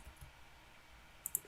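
A computer mouse clicks during 3D modeling work in Maya: a faint quiet stretch, then two quick, crisp clicks close together near the end.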